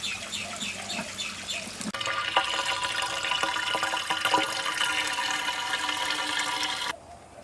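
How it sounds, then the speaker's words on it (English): Water rushes from a pipe into a koi pond biofilter tank, a steady loud gushing and splashing that starts abruptly and runs for about five seconds before stopping, with birds chirping faintly in the background beforehand. "Water's just gone down the pipe, it's come up through the second tank biofilter, and it's starting to flow out the"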